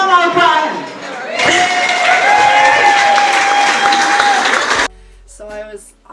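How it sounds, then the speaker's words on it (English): An audience at a live show breaks into loud, sustained clapping that lasts a few seconds, with a voice heard over the opening moments before the applause swells. "Put your hands together for Shauna O'Brien."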